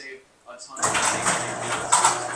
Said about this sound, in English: Close the garage door.